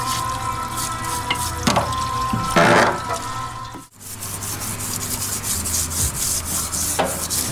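A car engine cylinder head from a Honda CR-V is scrubbed in a tub. Close, steady rubbing and brushing strokes mix with watery splashing, with a brief pause partway through.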